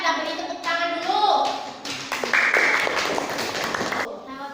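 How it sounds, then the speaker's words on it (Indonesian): A classroom group of children claps in a burst of scattered, uneven applause, mixed with high-pitched voices talking over it, loud and near. "kita beri tepuk tangan dulu."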